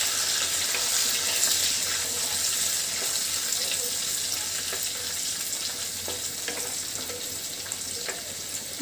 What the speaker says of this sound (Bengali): গরম মশলা যখন তেলেতে দেওয়া হয় খুব সুন্দর কিন্তু একটা ফ্লেভার বের হয়